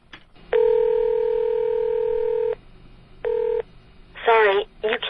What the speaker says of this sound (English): this is what you get if you call Steve-O's number today